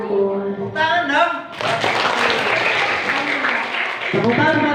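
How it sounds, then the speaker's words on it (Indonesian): Applause from a group at a Ramadan school session breaks out after a brief voice, a dense, steady clatter of clapping that carries on for several seconds before tapering as a voice returns. "Tepuk tangan buat Taulia"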